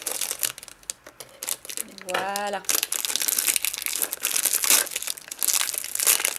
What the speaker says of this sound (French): Ah, ce plastique, tout ce plastique